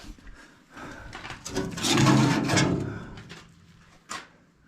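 The door on a David Brown 996 tractor being swung open and shut: a creaking, scraping movement building over a couple of seconds, then a short knock as it closes, close up with no talk.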